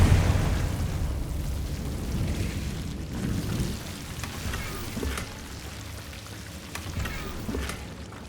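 A Confringo explosive spell goes off in Hogwarts Legacy, a loud rumbling blast that rolls on and slowly fades into crackling debris, with a few sharper bursts and no voices.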